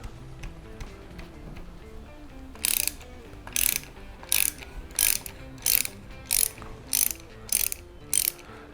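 A ratchet clicks in about eight short bursts, undoing the 12 mm and 14 mm sprocket clamp bolts on a Vulcan 750 motorcycle, each burst crisp and close against a quiet shop background.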